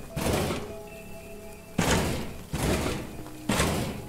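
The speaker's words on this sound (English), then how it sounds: "Darn it, the door won't budge open." Heavy door in the video game Choo-Choo Charles that won't open, thudding as it is tried: four dull, loud thunks of rattling resistance, each followed by a short ringing decay, with no talk over them.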